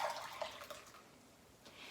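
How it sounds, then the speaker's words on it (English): Mulled apple cider pours into a mug, a faint, close liquid splash and trickle that fades out over a couple of seconds. "we're going to pour this into my fancy mug that I'm gonna be using"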